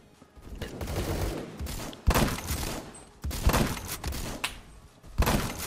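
Gunfire from a Mosin Nagant rifle in the shooter game Phantom Forces rings out as repeated loud bursts with echoing tails, dense and continuous across the stretch, with sharp cracks standing out.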